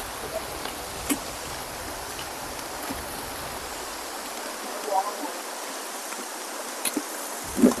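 Madakaripura waterfall in Probolinggo, East Java, pours heavily, giving a steady broadband rush of falling water at moderate distance, broken only by faint ticks and small knocks.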